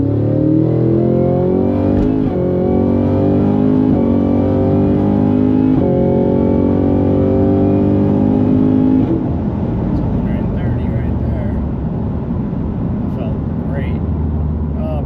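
A tuned Cadillac CT5-V Blackwing, lighter package, accelerating hard, its loud engine climbing steadily in pitch for about nine seconds before settling into a rougher, lower roar; a voice talks over it.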